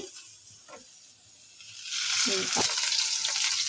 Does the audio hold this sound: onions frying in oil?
yes